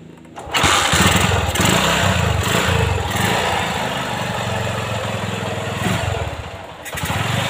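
A Honda Megapro motorcycle engine, running without a battery, is kick-started and settles into a steady loud idle, a close, continuous buzzing drone with a slight dip in revs near the end.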